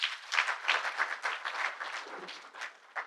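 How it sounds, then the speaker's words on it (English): Audience applause at the inaugural ceremony of a hernia surgery summit, honoring a professor: a dense, steady burst of many hands clapping for about three seconds, fairly close and without talk. "Can I have a round of applause for him?"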